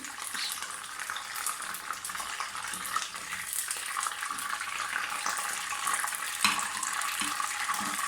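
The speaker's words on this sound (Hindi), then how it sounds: "मेरी चिकन फ्राई होगी।" Chicken pieces frying in hot oil give a steady, dense sizzle and crackle that holds throughout, close and alone with no talking.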